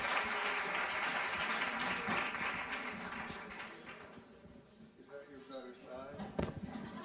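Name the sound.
audience applause for Richard Thaler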